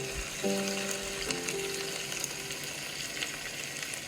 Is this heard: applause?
no